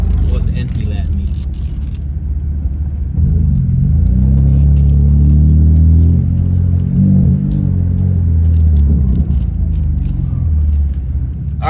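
BMW F80 M3 fitted with VRSF intakes, charge pipes and a top-mounted intercooler, its engine rumbling loudly and revving up close from a car interior, with people talking over the deep drone throughout.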